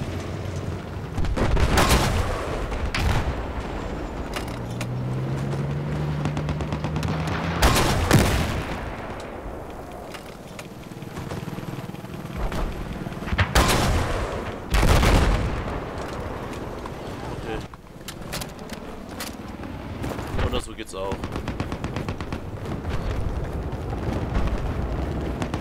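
Repeated heavy gunfire and booming explosions from the Battlefield 4 video game, set in Shanghai, come in loud bursts throughout, with someone talking over the combat.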